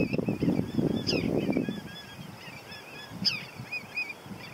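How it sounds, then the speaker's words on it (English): Terns and willets calling in a coastal marsh on Virginia's barrier islands, with sharp, high calls coming in scattered bursts over low wind rumble and water noise, moderately distant. "There's been choruses of birds, terns,"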